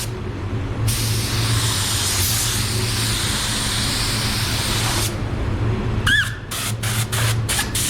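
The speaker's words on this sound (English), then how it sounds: "You can love spraying black cars." Spray gun painting a black car in a paint booth, a steady loud hiss lasting several seconds over a low booth hum, followed by a series of short spray bursts.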